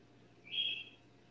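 A single short whistled bird call rises briefly out of quiet background hiss, faint and somewhat distant, lasting under half a second.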